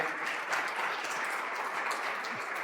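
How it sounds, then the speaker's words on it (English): Audience applause at a justice-access forum, honoring legal aid workers: a steady, dense wash of many hands clapping at once from a crowd, moderately loud and continuous throughout, with no voices on top. "So I want to do a round of applause for all of you and that good work."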